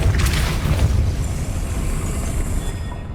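The Depulso spell is cast in the Hogwarts Legacy video game, heard as a loud, deep booming rumble that carries on steadily, with no speech.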